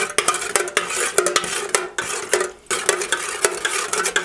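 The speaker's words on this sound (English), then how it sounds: "once it's added in, you want to stir about 20 or 30 times" Fragrance oil stirred into melted soy wax in a container makes a rapid run of clinking, scraping strokes in quick rhythm, with one brief pause midway before the stirring resumes.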